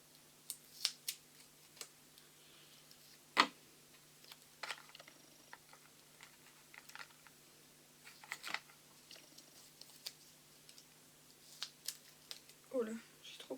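Scissors snip paper for a handmade fairy-themed card, giving sparse, faint, crisp cuts scattered over a quiet background with occasional rustling of paper.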